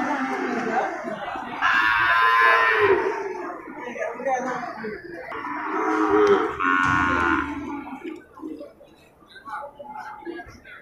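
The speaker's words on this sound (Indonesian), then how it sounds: "sapi kategori super ini Gam" Cattle at an Indonesian livestock trader's, including a premium-grade sacrificial bull, low and drawn out, mooing twice in loud lowing calls, with people talking nearby between and around the calls.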